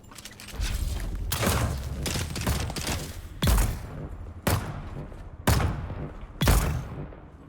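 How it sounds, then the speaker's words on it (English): Sniper rifle shots in Dune Awakening, a steady rumble of battle broken by several sharp, loud cracks spaced about a second apart toward the end. "Oh shit, that was a sniper."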